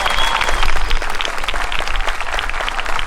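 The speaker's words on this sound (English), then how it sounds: "let's have a round of applause for band 1 and 2 somewhere, wherever you are" An audience at an intermediate school spring pops concert applauds with loud, steady, dense clapping that fills the whole moment, with no speech over it.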